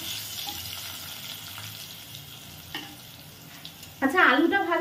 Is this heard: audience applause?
no